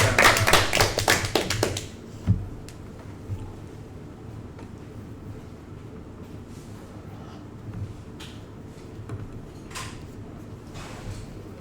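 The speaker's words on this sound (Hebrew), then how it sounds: "מחיאות כפיים אצלך" A quick burst of hand clapping during a Mastermind game round, several people clapping briskly for about two seconds before it stops, followed by a quiet room with scattered taps and small knocks.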